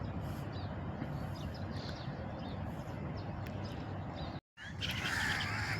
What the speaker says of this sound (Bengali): সুন্দর সুন্দর পাখি, তারা কিন্তু ডাকতেছে অনেক সুন্দর করে।